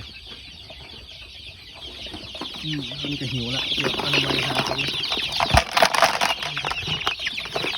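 Nearly two hundred free-range farm chickens cluck and murmur in a pen at feeding time on a grass-based feed, a steady flock chatter with a few louder calls and brief wing flaps, while a person talks over them.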